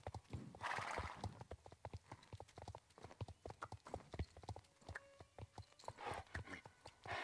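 A game horse in Star Stable Online trots around a circus, its hooves clip-clopping in a quick, even rhythm throughout, with neighing calls rising over the hoofbeats near the start and again toward the end.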